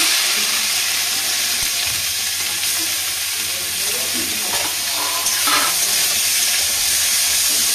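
Whole cumin, dried chillies and banana stem hit hot oil in a pan, giving a close, steady, loud sizzle and hiss that holds throughout, with light stirring scrapes and no talking.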